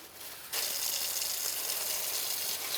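Water gushes suddenly into a bucket for mopping after a brief quiet moment, then keeps pouring in a steady, close, hissing stream.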